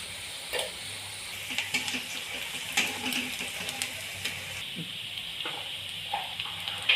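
Chopped onion with turmeric, red chili powder and Maggi masala sizzling softly in a pan, with light stirring clicks and scrapes over a low, steady frying hiss.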